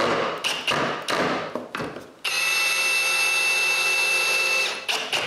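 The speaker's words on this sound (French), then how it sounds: "je marque pour un trou de chaque côté et je perce des trous pilotes" A power drill bores pilot holes into wood for mounting a TV bracket, a steady high whine lasting a few seconds after several short taps and knocks.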